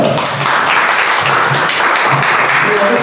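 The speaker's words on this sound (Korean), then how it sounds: "여러분 큰 박수로 맞이해 주시기 바랍니다" An audience at a peace and unification education forum in Seoul gives full, continuous applause to welcome a speaker, dense and even from start to finish with faint voices underneath.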